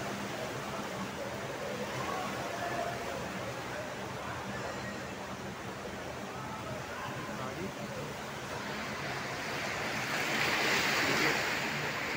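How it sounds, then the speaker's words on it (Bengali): Floodwater surges and washes across a waterlogged street in Salt Lake during heavy rain. The rushing is loud and continuous, with wind buffeting the microphone and a slight swell toward the end. "ঢেউ দিচ্ছে সমুদ্রের ঢেউ।"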